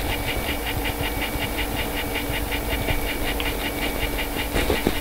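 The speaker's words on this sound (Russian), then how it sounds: "Слышно, как мотор BVG просто постоянно делает вжи-вжи-вжи-вжи, он пытается подстроиться под незнакомый ему сигнал" A VCR's drum motor struggles to lock onto an NTSC signal, giving a steady, rhythmic whirring pulse at about four beats per second over a constant mechanical hiss, with no talking.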